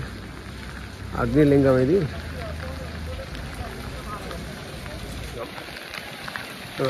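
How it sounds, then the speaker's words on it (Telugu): Rain falling on pilgrims walking around the hill on a giri pradakshina, a steady wash of broadband hiss throughout, with someone talking briefly near the start and the rain continuing alone afterward. "వర్షం పడుతుంది"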